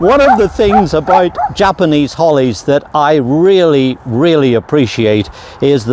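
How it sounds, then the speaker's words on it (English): A neighbour's dog barks in the background of a garden, partly masked by someone talking steadily about pruning Japanese holly. "I see our neighbours have let their dog out, so I apologise for the barking in the background."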